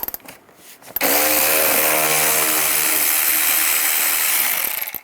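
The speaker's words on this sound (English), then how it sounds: "And then take these screws out. Use a T20 socket." Power driver with a T20 socket spinning out screws on a Chevrolet Equinox during fog light wiring work, a short click then a loud, steady whirring motor whine lasting about four seconds before trailing off, close up.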